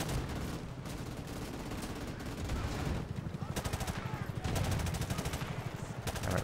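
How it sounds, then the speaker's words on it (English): Gunfire in the video game Modern Warfare Remastered, with rapid automatic bursts repeating in a fast, steady rhythm, loud and close. Other battle noise fills the gaps between bursts. "I'll just shoot them right here."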